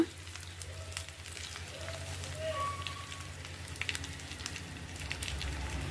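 Eggplant fry with masala cooking on a low flame gives a faint, steady sizzle, a soft continuous crackle with a few brief clinks over it.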